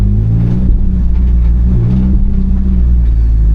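A 2019 Mazda MX-5 ND Miata engine revs under acceleration, a low, steady, loud rumble close by with slight rises and falls in pitch and no voices, as though the gearbox were loose.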